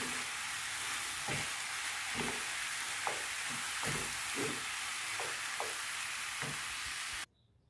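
Peppers frying in a pan, a continuous dense sizzle with repeated soft scraping stirs at a loose rhythm, close by, cutting off abruptly near the end.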